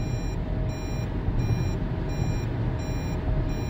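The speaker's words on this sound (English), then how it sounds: "It's giving me a hold steering wheel alert" A 2020 Toyota Prius sounds its hold-steering-wheel alert, a repeating series of evenly spaced beeps over steady road and cabin noise while driving.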